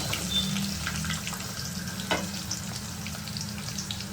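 Onions and green chillies frying in oil and ghee with biryani spices for gongura mutton biryani, giving a dense, steady, close sizzle that runs unbroken with no talking.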